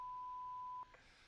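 A steady electronic beep sounds alone for most of the clip, one long continuous tone that cuts off sharply, followed by a faint low-level room background.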